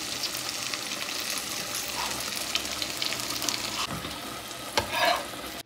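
Halim mix stirred into cooked meat and frying in a pan gives a continuous sizzle with scraping stirs, and a louder clatter near the end.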